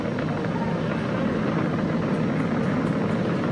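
Falcon 9 rocket engines thunder during a Crew Dragon launch, a dense, continuous broadband roar that fills the whole clip without letting up.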